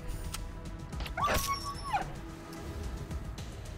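A dog in the Wasteland 2 Director's Cut video game gives a sharp yelping bark and whimper amid game sound effects, including a brief rising tonal whine, with a few scattered clicks.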